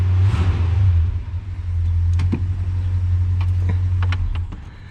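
A 1966 Ford Galaxie 500 convertible's engine idles at operating temperature, a loud, steady low rumble that dips briefly as the fast idle is kicked off and then settles, with light clicks over it.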